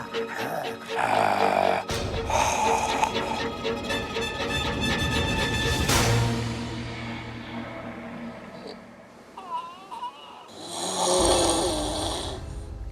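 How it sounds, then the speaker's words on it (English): Loud snoring from a man in a Big Brother Australia house, with rough, rattling snorts and grunting breaths in long, uneven cycles, heard close up. Some other voice-like sounds mix in among the snores. "Can you describe the snoring to Big Brother?"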